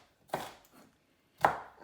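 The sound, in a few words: knife chopping onion on a board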